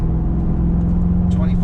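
A Chevrolet Corvette C8 Z51 convertible cruises at low revs, its engine giving a steady deep drone with road rumble and no talking.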